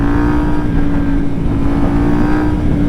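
A 2025 Yamaha MT-09 motorcycle in its A2-restricted version runs steadily while being ridden, its engine a continuous close drone with a strong low hum and little change in pitch, with no talk over it.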